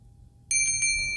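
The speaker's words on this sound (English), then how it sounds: "This is the pentacle bell." A small pentacle bell rings twice in quick succession, bright and clear with a lingering metallic shimmer, close by over a faint low hum.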